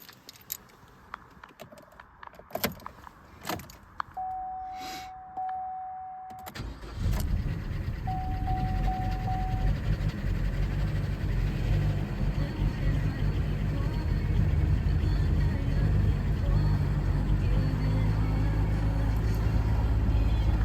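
A Chevy Cruze engine fresh from a timing chain repair cranks after a few clicks and chimes, then catches and settles into a steady running rumble close by, briefly misfiring before evening out.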